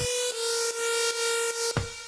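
A sustained, raw buzzy hardstyle screech synth tone from Spire with its effects removed holds steady with harmonics, briefly interrupted by short clicks, then cuts off near the end.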